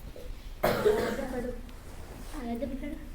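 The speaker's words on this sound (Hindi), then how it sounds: "खांसी आ रही ना" A single sharp cough bursts out, followed by a brief rough trailing breath, then a voice speaks quietly afterward.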